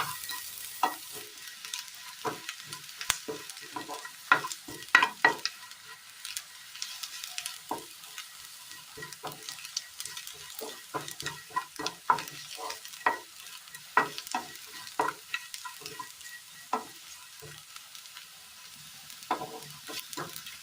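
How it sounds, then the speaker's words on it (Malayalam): A Kerala curry finished with ghee simmers in a pan, with a soft steady sizzle and bubbling broken by frequent sharp clicks and scrapes of stirring, close and moderately quiet, with no talking. "കറി നന്നായി തിളച്ച് വന്നിട്ടുണ്ട്, അരപ്പൊക്കെ നന്നായി തിളച്ച് വന്നിട്ടുണ്ട്."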